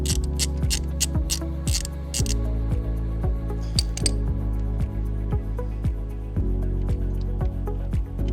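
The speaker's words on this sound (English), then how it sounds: "it's a 17 millimeter socket, and we'll just take it off, see how bad the oil is" A ratchet wrench with a 17 mm socket loosens the oil drain bolt on a 2024 Kawasaki ZX6R, giving steady rapid clicking in repeated strokes, close and clear over a low hum.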